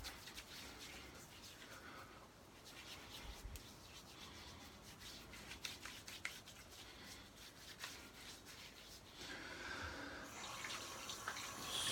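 Water runs steadily from a bathroom tap while the face is wetted for a shave, a continuous faint hiss and splash with small scrapes and rubs mixed in.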